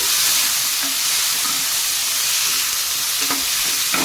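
Chopped onion and thick-cut tomato fry in a pan, giving a loud, steady sizzle with a few soft stirring scrapes scattered through, heard close and alone.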